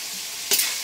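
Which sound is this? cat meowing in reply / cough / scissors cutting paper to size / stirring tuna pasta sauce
stirring tuna pasta sauce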